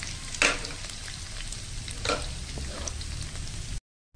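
Garlic sautéing in hot cooking oil gives a steady, close frying hiss, with a couple of brief stirring scrapes and no voices before it cuts off abruptly near the end.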